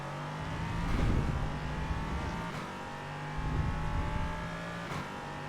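An LMP3 race car in iRacing accelerates hard out of a corner at Spa-Francorchamps, its engine rising in loud, steady pitch sweeps across several gear changes with no talk over it.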